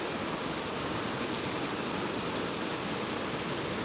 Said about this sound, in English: Right here by the river, y'all.